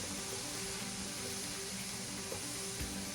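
Steak sandwich filling with green peppers sizzling steadily in a pot while being stirred, a constant close frying hiss with faint scraping underneath, no talking.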